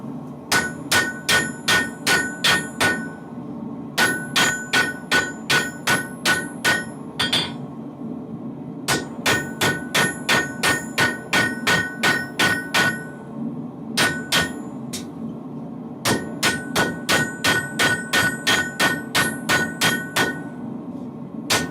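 Rapid bursts of hammer blows from a flatter ring out on a steel knife blade, each run of quick, bright strikes broken by brief pauses, close and loud.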